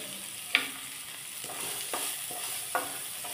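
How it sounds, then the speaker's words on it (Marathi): A large chopped onion fries in oil for an okra dish, a constant low sizzle broken by a few sharp stirring knocks and scrapes spaced about a second apart. "आता याच्यात आपण कांदा घालूया"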